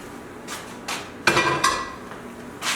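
A utensil clanks and scrapes against a pan as cooked pasta is tossed with shrimp scampi sauce, giving a series of short metallic knocks, with one louder scraping stretch in the middle.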